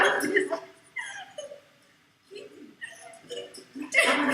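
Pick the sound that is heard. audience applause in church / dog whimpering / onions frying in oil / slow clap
dog whimpering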